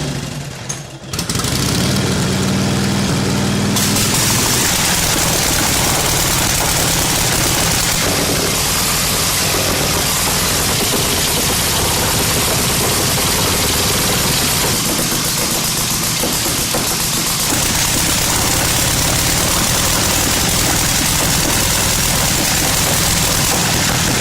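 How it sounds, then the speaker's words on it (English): A 1936 Harley-Davidson motorcycle engine is cranked, catches after a second or two, and runs loud and close with a rough, steady idle that carries on throughout. "He's going to crank up the 36 Harley"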